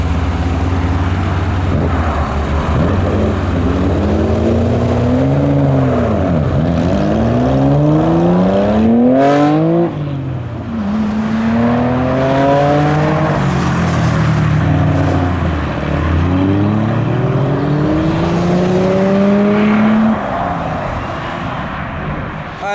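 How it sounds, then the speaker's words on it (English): A Cobra sports car pulls away down the road after a tunnel run, its engine roaring loud and close through repeated rising revs and gear changes before easing off as it drives off. "My car sounded absolutely incredible"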